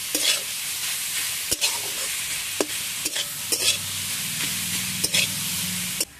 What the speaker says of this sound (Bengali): ইয়ার পর দিয়ে দিচ্ছি গ্রেট করা ফুলকপি গাজর বিট, সেগুলো একটু নেড়ে চেড়ে ভেজে নিচ্ছি।